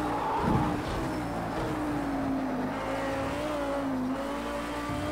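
A race car in Project CARS 2 revs and accelerates hard, its engine note climbing steadily up through the gears, loud and close, with a brief tire chirp near the start and no talking.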